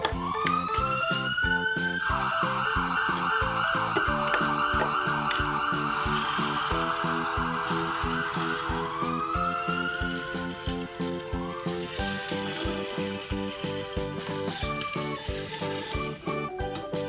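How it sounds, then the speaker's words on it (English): Ambulance siren from a toy emergency vehicle, a looping electronic wail that rises and falls over a busy, repetitive jingling tune, loud and continuous for the whole stretch. "Ambulance."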